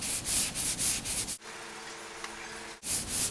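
Hand sanding 3M finishing glaze on a car body repair, a close, steady back-and-forth rub in quick regular strokes, pausing for about a second and a half before the scraping resumes.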